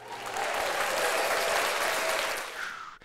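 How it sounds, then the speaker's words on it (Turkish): Crowd applause played as a sound effect to livestream viewers swells into a dense, even wash of clapping that holds for about two and a half seconds, then tapers off and ends with a single sharp click. "Buna rağmen yayınımıza gelenlere bir alkış yolluyorum."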